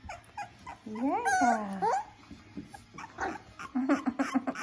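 Small puppies whimpering and yipping close by in a house, with high wavering whines and a run of short yips, a person briefly speaking over them.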